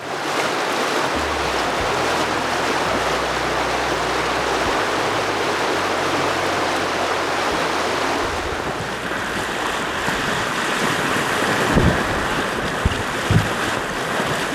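River rapids rushing over basalt boulders in a remote Montana wilderness, a dense, steady roar of churning water close by, with a low rumble early on and a couple of brief knocks near the end.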